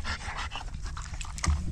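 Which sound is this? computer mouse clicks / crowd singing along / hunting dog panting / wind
hunting dog panting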